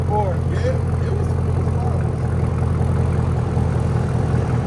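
A 2022 Cadillac CT5-V Blackwing with straight pipes idles loud and close, giving a constant deep burbling drone, with brief faint voices underneath early on.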